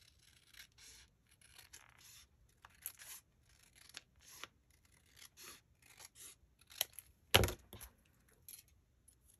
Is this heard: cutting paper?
yes